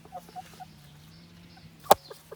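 Pet chickens give soft, scattered clucks nearby, with one sharp louder squawk near the end over a faint steady background hum.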